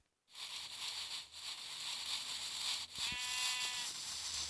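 A sheep in Minecraft Pocket Edition gives a drawn-out bleat, fairly faint and alone in the game world, with a second quick bleat near the end.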